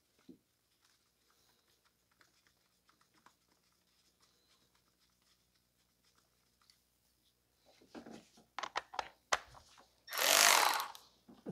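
A bolt being fitted on the oil dipstick tube of a 2005 Toyota Corolla: a long near-silent stretch, then a cluster of sharp metallic clicks and knocks, ending in a loud one-second power-tool whir up close.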